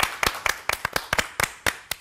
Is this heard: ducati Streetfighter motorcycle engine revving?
no